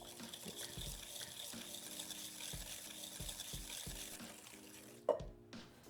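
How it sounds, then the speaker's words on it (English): Granulated and dark brown sugar are whisked together in a bowl with quiet, even, rhythmic scraping strokes, finished by a sharper clink of the whisk against the bowl. "Let's whisk it up."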